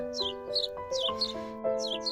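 Birds chirp on a savanna at daybreak, quick bright twittering calls in short bursts over steady sustained musical tones.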